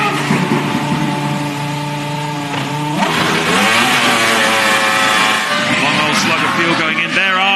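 Formula One cars, a Ferrari and a McLaren, passing the start-finish straight at the 2005 Hungarian Grand Prix: loud, sustained high-pitched engine whine with rising and falling pitch, under continuous race commentary.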